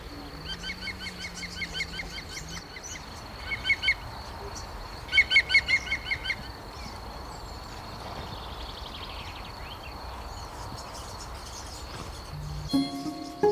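Noisy daytime birds chirping high in willow branches, bursts of rapid repeated chirps in clusters over a steady outdoor hiss, with a low honk-like call early on and a brief louder sound at the end.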